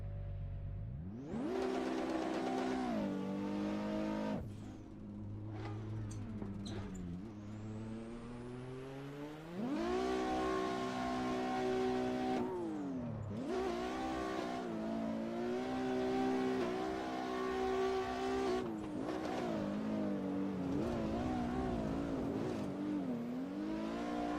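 A car engine in the Assetto Corsa racing game revs under full throttle, pitch climbing and dropping through several pulls, with brief lifts off the throttle between sustained, loud, droning bursts.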